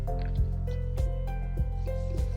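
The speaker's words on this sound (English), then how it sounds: "I've put a little bucket underneath because the water is going to drip out of the cage" Water drips from a wire cage into a small bucket beneath it on a standing spray workbench, giving regular plinking drops about every half second over a steady low background hum.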